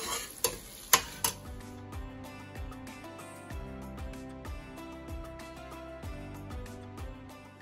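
Turmeric and chili powder fry in a pan, opening with a few sharp clatters of the spatula, then a steady sizzle and stirring under a faint tonal background.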